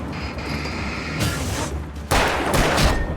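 Gunfire in the video game Alan Wake, a couple of broad booming bursts that swell into a loud, noisy blast near the end over a steady rumbling game background, with no talking.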